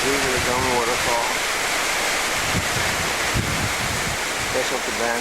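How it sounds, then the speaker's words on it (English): A dome waterfall at a resort pool area rushes in a constant broadband wash, with people talking over it and some wind buffeting the microphone. "These are the Dome Waterfall."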